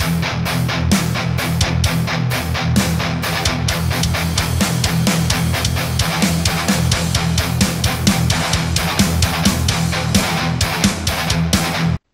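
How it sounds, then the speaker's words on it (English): A loud, dense rock riff in 5/4 time with heavy distorted guitar and drums, hitting in choppy, irregular groupings that repeat steadily throughout, with no voices. "Here's what the new riff that we'll be working with looks and sounds like."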